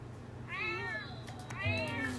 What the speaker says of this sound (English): Oh my god, stop meowing.